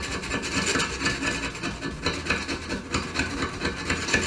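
A putty knife scrapes old wax and sediment off a toilet flange or base, a steady close rasping and rubbing that continues without pause.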